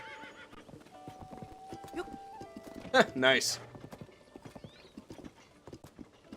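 A horse in Zelda: Tears of the Kingdom gives a loud whinny amid rhythmic clip-clopping hooves, with soft game chimes and someone talking briefly over the gameplay.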